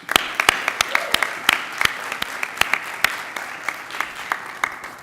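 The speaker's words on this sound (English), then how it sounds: "I'd like to close with a round of applause for our candidates." Audience at a school board candidate forum claps for the candidates, a modest room of applause with distinct individual sharp claps standing out in an uneven rhythm.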